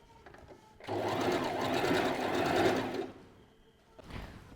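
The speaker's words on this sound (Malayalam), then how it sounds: "ഇങ്ങനെ മടക്കിയിട്ട് ഇതിൻ്റെ മേലെ ഓൾ റൗണ്ട് അടിച്ചു കൊടുക്കുക." A sewing machine runs a continuous stitch all round over a folded hem, a close steady mechanical whir lasting a few seconds before stopping, followed by a short burst of handling noise.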